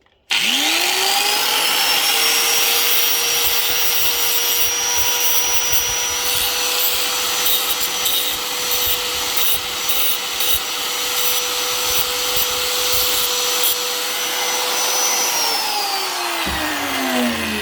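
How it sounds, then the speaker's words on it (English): A power grinder takes the burr off a freshly cut metal end, spinning up sharply, holding a loud steady whine for about fifteen seconds, then winding down. "so we grind the burr off"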